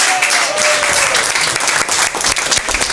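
An audience at a French song performance claps loudly and steadily, dense applause filling the whole stretch with no talking.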